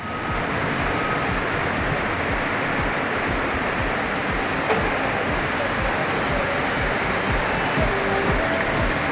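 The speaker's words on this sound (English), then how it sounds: "Look at that fierce river." A fierce river rushes past near an excavator attempting to cross it, a loud, steady, broadband roar of churning water that holds constant throughout with no pauses.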